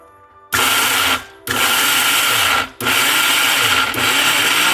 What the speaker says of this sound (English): I'm planning to use the blanched untoasted almonds and then blend them in the mixer so that I get a fine powder